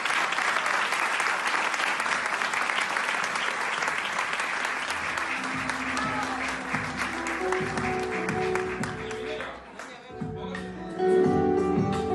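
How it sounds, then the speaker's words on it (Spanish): Studio audience on a Spanish-language talk show gives a guest a loud, dense round of clapping that holds steady, then thins out over the last few seconds as voices and tonal sounds come through. "Demos un fuerte aplauso a esta dominicana sobresaliente."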